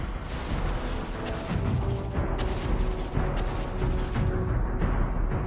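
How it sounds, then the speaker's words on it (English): Booming blasts and crashing impacts from a defensive turret being destroyed in the mobile game Mobile Legends, loud and close, with several heavy bursts over dense battle noise. "Our turret has been destroyed!"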